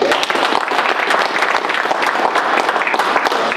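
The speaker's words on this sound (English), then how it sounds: "Give them a round of applause." Loud, dense applause from an audience at a wrestling press conference, continuous and even for the whole stretch, with many hands clapping close by and no clear speech over it.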